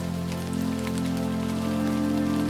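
Spring rain falls in a steady, dense patter, continuous and fairly close, with a low hum beneath and no voices.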